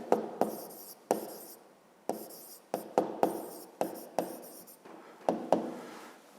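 Pen strokes scratch across paper as line segments are written by hand, a series of short close taps and scrapes in an uneven rhythm, quiet and without speech.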